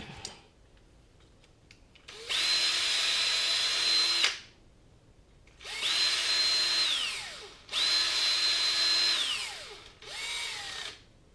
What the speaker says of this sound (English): I just got to drill that out.